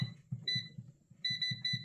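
An air fryer beeps in short repeated electronic tones while its timer is set, faint and close, in two clusters separated by a brief pause.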